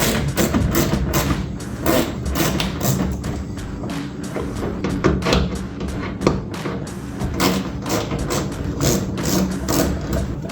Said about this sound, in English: I have a bit adapter on my ratchet here. So we'll go ahead and get those removed.